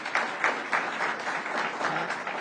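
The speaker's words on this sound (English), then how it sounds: "Let's give another round of applause to John King, our Chancellor." Audience applause at a university event celebrating artificial intelligence innovation, a steady wash of many hands clapping with a few louder bursts, moderately distant and continuous throughout.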